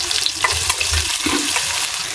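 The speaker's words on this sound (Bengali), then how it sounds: "কচু শাকটা বাগারের জন্য আস্ত কয়েকটা শুকনো মরিচ দিয়ে দিলাম, রসুন কুচি দিয়ে দিলাম," Dried red chillies, chopped garlic and onion frying in hot oil as a tempering for taro leaves, a close, steady crackling sizzle with no voices.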